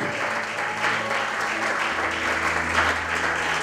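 A church congregation applauds: dense, steady clapping from many hands fills the room without a break, with a low murmur of voices underneath.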